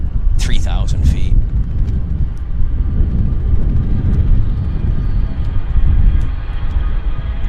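A corporate jet taking off at Vancouver Airport, a loud, steady engine roar with deep rumble dominating throughout, a voice talking briefly near the start.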